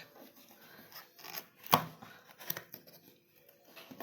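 Gift packaging torn and rubbed open by hand, a series of close papery rips and crinkles with one sharp loud tear in the middle, fairly quiet between bursts, with no talking.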